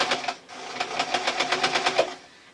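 A basic modern sewing machine stitches a tee shirt dress in a close, steady run of rapid rhythmic needle thumps lasting about two seconds, with a short hum before it.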